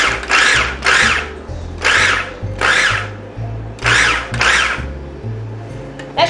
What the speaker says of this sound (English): Here's our food processor. I'm gonna pulse this a couple, yeah, it's on chop.